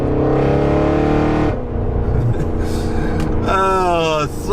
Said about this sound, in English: The sound of this car is so bloody addictive.